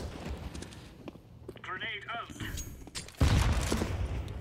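Gunshots in the video game CS:GO, a few sharp shots scattered through the clip, followed by a louder burst near the end, with someone talking over the game audio.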